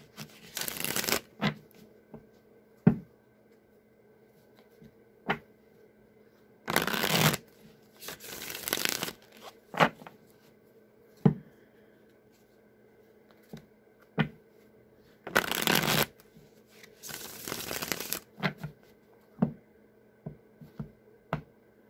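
A deck of Deviant Moon Tarot cards is shuffled close up in several separate bursts of riffling, with scattered single taps and card snaps in the quiet gaps between.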